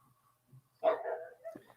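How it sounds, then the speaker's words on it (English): A dog gives one sharp, close bark followed by a shorter, softer yelp, with almost nothing else around it. "Shut up, dog."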